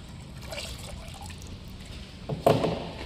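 Homemade liquid detergent being stirred into water gives soft, faint trickling and sloshing, with a sudden louder splash near the end over a quiet room background.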